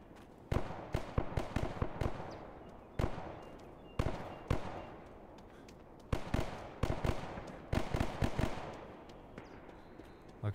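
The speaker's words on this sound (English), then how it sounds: "Looks like there were two people shooting each other" Sharp gunshots crack out in Last Day on Earth PvP combat, irregular bursts and single shots trading back and forth at moderate distance, each with a short decaying tail, no talking.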